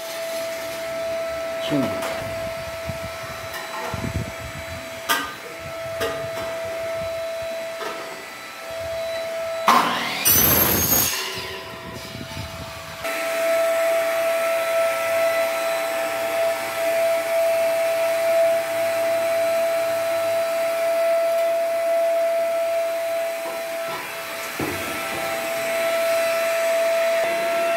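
A power tool cuts a stair handrail for a residential staircase, giving a sharp loud burst followed by a long, steady whining hiss, with talking heard in between.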